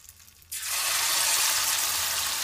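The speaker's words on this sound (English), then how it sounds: "So my oil is hot, guys, so I'm just gonna add my fritters to it." Corned beef fritters going into hot oil: after a quiet moment a sudden, loud, bright sizzle erupts and holds steady as a dense crackling hiss, close up with no voices.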